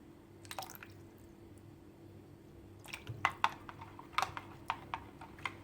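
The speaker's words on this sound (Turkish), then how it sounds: "kalan pirincin içine de 3 yemek kaşığı kadar su ilave ediyorum" Water is spooned into leftover rice and stirred, giving soft wet drips and squelching clicks that come in an irregular cluster in the second half, close and fairly quiet with no talk.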